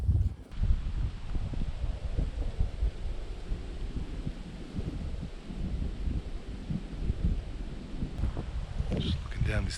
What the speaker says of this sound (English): Oh, the wind's blowing up towards us.